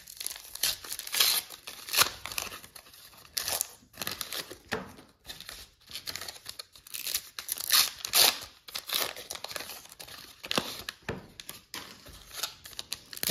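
Foil wrappers of 1990-91 Upper Deck hockey card packs are torn open and crinkled, with repeated close, loud rips and crackling rustles in bursts, no talking.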